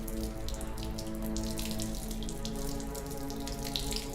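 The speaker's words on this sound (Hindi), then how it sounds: "पानी डालो बेटे मेरे हाथों पर।" Water poured from a vessel over a man's hands in a historical Ottoman-era drama, a steady continuous splashing trickle running unbroken and fairly close, with a low background hum beneath and no talking.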